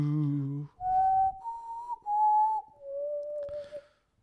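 A person whistles the Hunger Games theme song, a short four-note melody of clear sustained tones, close and alone after a brief low hum at the start.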